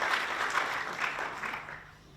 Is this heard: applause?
yes